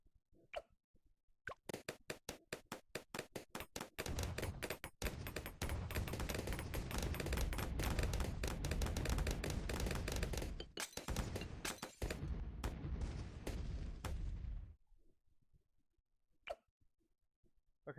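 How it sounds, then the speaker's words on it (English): Rapid bursts of popping and cracking explosions from the Bloons video game fire in a dense, loud barrage for about ten seconds, with sparse isolated pops before and after. "Where are these explosions coming from?"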